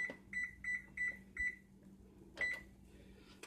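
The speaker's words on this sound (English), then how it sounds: "I'm going to go ahead and preheat my oven" Kitchen oven being set to preheat, giving five quick electronic beeps in a row, then a pause and one more beep, close and clear in a quiet room with no talking.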